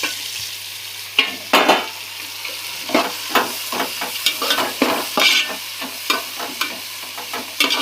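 Mint and coriander are tossed into a hot pan with softened tomato for a gongura meal-maker pulao, giving a steady sizzle broken by irregular scraping stirs and clanks, close and moderately loud, with no speech.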